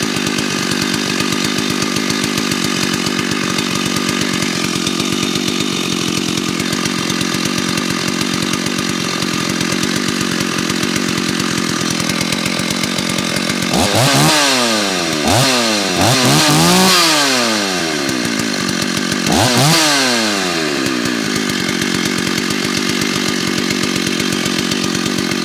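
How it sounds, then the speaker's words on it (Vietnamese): A used 2011 Stihl MS381 chainsaw in good condition runs loud and close, holding a steady idle, then revving sharply in several short bursts before settling back; no voices. "Rồi nổ cho anh em nghe thử đánh giá tiếng máy nhá."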